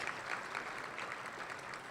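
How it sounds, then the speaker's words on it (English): A crowd gives a steady round of applause at the Economic Engine 2016 introductions, the clapping faint and distant but continuous throughout. "Round of applause for the city of Fort Lauderdale"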